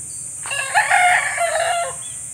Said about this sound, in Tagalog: Yung mga manok ulit, oh.